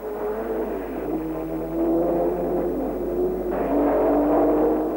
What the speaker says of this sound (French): Lors de leur deuxième passage à la source, Collins est devant, Hawthorne a pris l'avantage sur Jean Debien et Mousseau sur Lewis Evans.